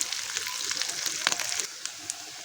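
Potatoes frying in oil in a pan as they're stirred and turned, a soft continuous sizzle with scattered crackles and occasional spatter pops up close.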